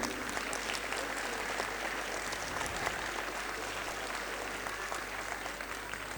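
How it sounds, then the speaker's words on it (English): Steady, dense applause from a crowd of schoolchildren at a school musical's acknowledgements ceremony, with many hands clapping continuously at an even level throughout. "Clap, children."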